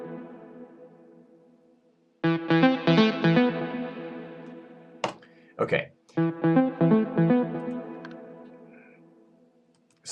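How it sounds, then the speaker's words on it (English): A synth lead drenched in big, spacey reverb plays two bright bursts of sustained notes separated by short gaps, each tail fading slowly into silence; a voice briefly speaks at the start. "So I wanted this sound to be big and spacey and have lots of reverb on it."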